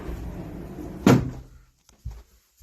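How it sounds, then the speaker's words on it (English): Cupboard doors in a rental house being opened, one loud wooden knock and bang followed by quieter clunks as more doors swing, close by, no talking. "Let me open up the other doors."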